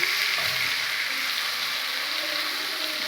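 Ginger paste, cumin and chili powder frying in hot oil in a pan, a steady close sizzle of spitting oil that holds at an even level throughout, with no talk.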